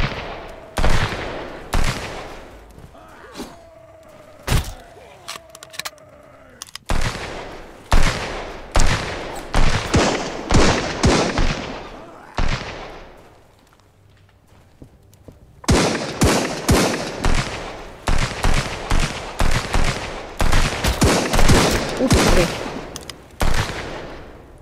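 Rapid bursts of gunfire in the Sunkenland video game, loud and close, with rattling volleys separated by short pauses and a brief quiet stretch before firing resumes heavily.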